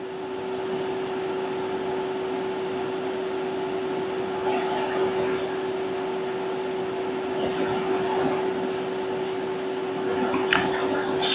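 Car AC service machine running during a rear AC delete on a 2009 Toyota Highlander, a steady electric hum with a constant tone, moderately loud and continuous, with faint clicks near the end and no talk.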